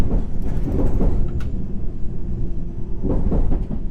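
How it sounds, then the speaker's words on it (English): A subway train rolls over a track switch in World of Subways 3, on a self-made H&C Line route. It makes a loud, steady rumble throughout, with a few sharper clacks near the start and end. "I changed the switch sound to be the same like the rolling sound"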